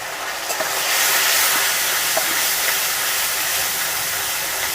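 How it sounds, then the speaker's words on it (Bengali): Ginger, garlic and onion paste frying in hot oil, a loud, close, continuous sizzling hiss that swells just after the paste goes in and then holds steady. "আদা রসুন পেঁয়াজ বাটা সেটা দিয়ে দেব"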